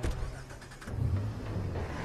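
A car in Watch Dogs makes short door and engine sounds as a player climbs in, with a brief clunk followed by a low engine hum.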